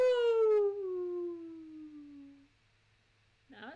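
A person imitates a wolf howl, a single long drawn-out falling cry that fades over about two seconds, followed by a short burst of a voice at the end.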